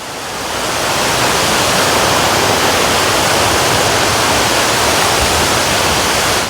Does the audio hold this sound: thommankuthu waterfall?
yes